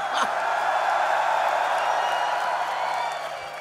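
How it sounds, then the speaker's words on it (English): A large festival crowd at a heavy metal concert cheering and roaring loudly, a dense sustained wall of voices that holds steady and then begins to fade at the end. "You guys are loud."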